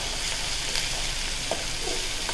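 Onions sauté in a pan with a continuous close sizzle and a few soft stirring scrapes, alone with no voices.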